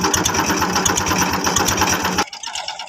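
An Indian desi tractor engine runs close by with a loud, fast, rhythmic chugging that stops abruptly after about two seconds, leaving quieter background noise.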